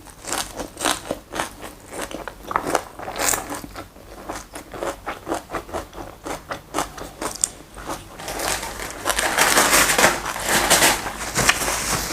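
Someone eats fresh crunchy vegetables such as cabbage with a mackerel miang and peanut dipping sauce, making close, loud biting and crunching. Rapid crisp chews continue throughout and grow denser toward the end.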